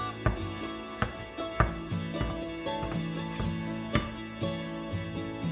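Ground beef broken up with a utensil in a pan on a home stovetop, a series of distinct clacking scrapes and taps at an uneven rhythm over a low steady hum, close and moderately loud.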